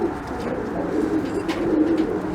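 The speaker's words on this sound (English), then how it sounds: "Very nice pigeon. Just a different variety." Tippler pigeons cooing close by, a continuous low soft murmuring coo with rolling pulses and faint rustling, no speech over it.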